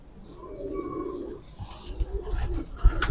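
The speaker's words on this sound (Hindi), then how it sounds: "ये आपको आज प्रोफेसर साहब के चीने कबूतरों का शौक करवा रहा हूँ" Chena pigeons cooing in a loft, soft low repeated coos close by, with faint shuffling and background noise.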